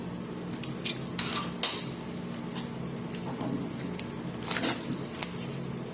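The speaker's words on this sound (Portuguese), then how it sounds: "vou abrir com estilete, tá?" A utility knife slicing open the packaging of a Redmi Note 9 Pro smartphone box, heard as close, sharp scratchy cuts and crinkles in short bursts over a low steady background hum.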